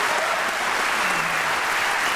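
Theatre audience applauding at a live show, a dense, loud, steady wash of many hands clapping throughout with no gaps.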